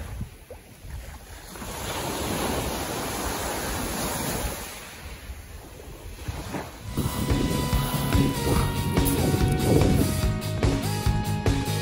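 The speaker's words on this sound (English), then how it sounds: "The sea was so blue and so beautiful, and I want you to hear these sounds." Mediterranean waves roll onto the beach at Antalya, surging and retreating in broad washes with gusts of wind buffeting the microphone, later joined by a rhythmic, tonal background sound over the surf.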